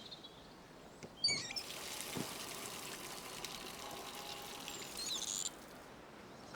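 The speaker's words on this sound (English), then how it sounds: "Now I'm going to wash my hands." Hands are washed under running water in a garden setting. A quiet splashing pour starts abruptly and runs for several seconds before cutting off, with faint birdsong around it.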